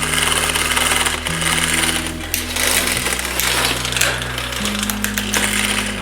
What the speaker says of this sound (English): this drives people crazy too when I have the chain rubbing on the chainstay like that